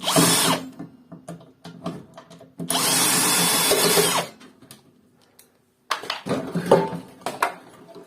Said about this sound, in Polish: Chyba tylko krętarkę słyszycie, nie?